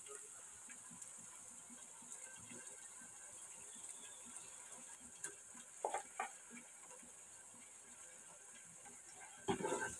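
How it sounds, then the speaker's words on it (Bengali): Ginger, garlic and cumin paste sautéing in a pan with onions for chicken biryani, a quiet continuous sizzle with intermittent scraping stirs and a couple of louder clinks, close and without talk. "এবার কাঁচা মশলাটাকে আমি বেশ কিছুক্ষণ কষিয়ে নিচ্ছি।"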